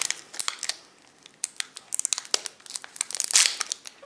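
A Pokémon card booster pack is torn open up close: a quick run of sharp crinkling rips and foil crackles in uneven bursts, with a brief lull before a denser flurry.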